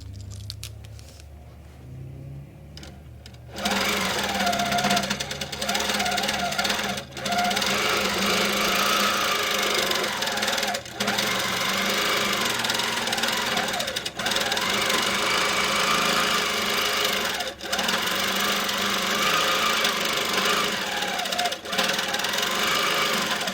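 A Handi Quilter quilting machine with a couching foot stitches down yarn, starting after a few quiet seconds with a loud, fast, steady mechanical hammering that continues with brief pauses.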